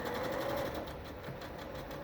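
A sewing machine stitches knit fabric with a long straight stitch, a steady close mechanical whir with rapid rhythmic needle ticking that runs continuously without speech.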